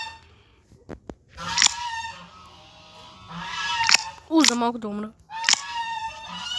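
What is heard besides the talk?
duck quacking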